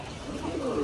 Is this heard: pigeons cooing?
yes